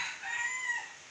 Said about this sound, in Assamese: কুকুৰা চৰাই ডাক দিছে।